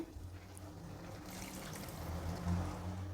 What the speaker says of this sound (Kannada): ಇನ್ನೊಂಚೂರು ನೀರು ಹಿಡಿಯುತ್ತೆ ಹಾಕ್ತೀನಿ